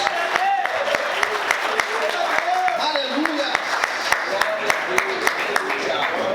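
A church congregation claps in rhythm during a Portuguese-language service, with steady, evenly spaced claps running throughout while a preacher speaks over them.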